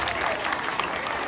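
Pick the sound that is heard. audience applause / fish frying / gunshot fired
audience applause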